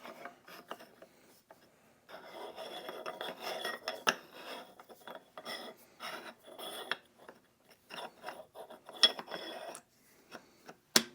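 Hands fitting together the parts of an Option O P80 coffee grinder, with irregular close scrapes, clicks, rattles and rubbing of metal and plastic components between short pauses.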